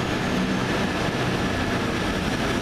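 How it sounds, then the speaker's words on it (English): A Virgin train from Chester bound for London Euston rumbles steadily at a station in Crewe, a continuous broadband roar with no clear breaks, fairly loud and close throughout. "Virgin train service from Chester."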